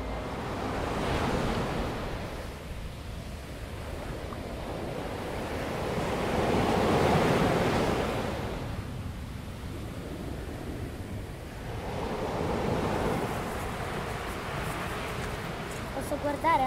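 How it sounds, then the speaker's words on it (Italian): Sea waves wash onto the shore at Baunei, Sardinia, swelling and receding in three broad surges under constant wind rush on the microphone. "Hai mai visto il mare?"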